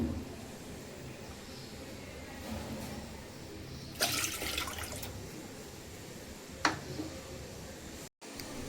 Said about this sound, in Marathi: त्यासाठी आपण 2 कप पाणी घालायचं आहे